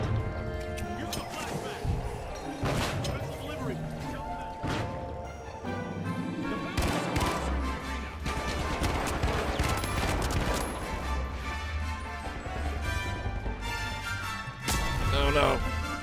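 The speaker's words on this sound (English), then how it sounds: "There's turrets everywhere!" Turrets firing guns in The Finals: dense, loud, continuous gunfire with crashing impacts and heavy thumps, filling the whole stretch amid chaotic game noise.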